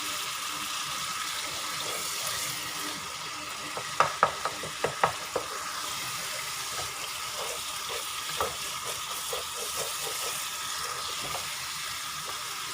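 Minced keema meat frying in a pan with a continuous near sizzle, punctuated midway by a quick run of spoon clinks and scrapes against the pan, then steady frying again; no talk.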